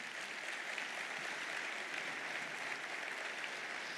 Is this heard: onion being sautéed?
no